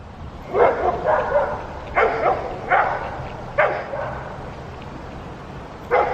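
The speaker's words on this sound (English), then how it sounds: "They're probably gonna bark for a minute." Several neighborhood dogs bark in short bursts, a few barks at a time with pauses between, at moderate distance over a steady low background hum.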